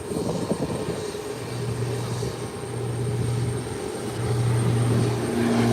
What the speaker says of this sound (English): There's the Beechcraft 1900 sailing down smoothly off the ground, up and away.